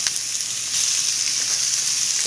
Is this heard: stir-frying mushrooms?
yes